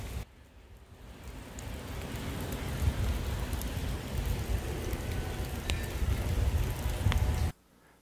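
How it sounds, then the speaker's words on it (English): Steady rain falling outdoors, a dense even hiss of drops that swells in after a quiet start and holds until it cuts off abruptly near the end. "now it started to rain"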